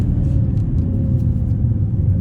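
A BMW 330d diesel with standard exhaust idles and runs close by, a smooth, deep, steady rumble with a low tractor-like grumble and no voices over it.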